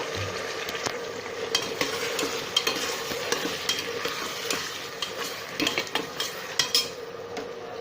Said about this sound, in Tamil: இப்போ பார்த்தீங்கன்னா நம்ம சாப் பண்ணி வச்சிருக்க தக்காளி இதில் சேர்த்துக்கலாம்.